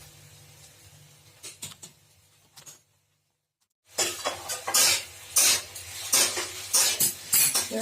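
Poppy seed paste is stirred into ridge gourd frying in a pan, with a spoon clattering and scraping against the metal in quick repeated strokes, loud and close after a brief pause of near silence.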